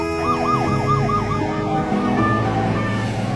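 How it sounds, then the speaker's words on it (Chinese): An ambulance siren wails loudly and continuously, its pitch sweeping up and down in steady repeated cycles over a low rumble. "一台救护车！"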